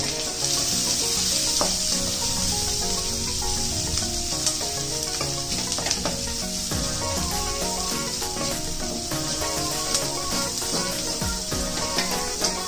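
Sliced onions and capsicum are tossed in a hot pan for egg hakka noodles, with a continuous loud sizzle and frying hiss and a few metallic scrapes.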